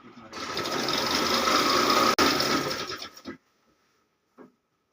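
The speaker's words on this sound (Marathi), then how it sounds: "आता आपण ही आडवी टीप मारत आहोत" A sewing machine runs steadily for about three seconds, stitching a crosswise line to attach a saree cover onto an old hand-stitched godhadi quilt, then stops abruptly, followed by a brief faint click.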